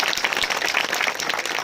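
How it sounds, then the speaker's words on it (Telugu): Audience applause at an evangelical church gathering: a dense, steady wash of clapping from a crowd, continuous and fairly loud throughout, with no voices breaking through. "అందరు చప్పట్లు కొడదామా?"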